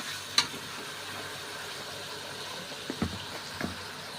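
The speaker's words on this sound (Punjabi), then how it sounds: "ਨਮਕ ਪਾਉਣ ਨਾਲ ਟਮਾਟਰ ਆਪਣਾ ਪਾਣੀ ਛੋੜ ਦਿੰਦੇ ਹਨ ਤੇ ਛੇਤੀ ਪੱਕ ਜਾਂਦੇ ਹਨ" Tomatoes with salt cooking in a pan give off a quiet, steady sizzle, with a few soft stirring scrapes and clinks near the end.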